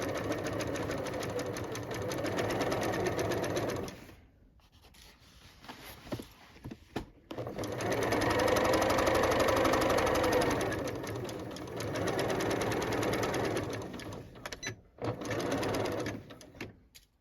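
A sewing machine stitches down the back-panel seams of an upcycled denim jacket in long steady runs with brief pauses between, a close, busy mechanical whir.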